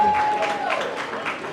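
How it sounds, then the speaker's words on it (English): An audience at a hometown concert claps in a steady, warm round of applause, the dense clatter filling the short stretch with a speaking voice over it. "give one more warm round of applause for Blake"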